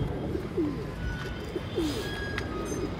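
Pigeons cooing softly in a loft in a repeated rhythm, a couple of low rolling coos over a steady background hum.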